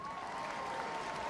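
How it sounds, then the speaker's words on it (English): Steady crowd applause and cheering fill an indoor arena at Crufts 2024 as a Mastiff is shown in the working group judging, a continuous, even wash of noise with no breaks. "Big cheer for the Mastiff as well."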